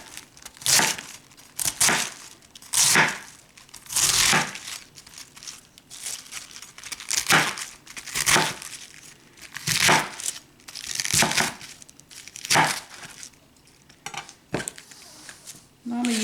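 A knife slices a cabbage on a flat surface, making repeated crisp crunching and crackling cuts in irregular bursts, close and fairly loud, with a voice talking faintly in places.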